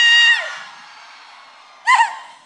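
A crowd of women screams at a live concert in Curionópolis, with a loud shrill burst at the start that fades, then a second sharp cheer near the end.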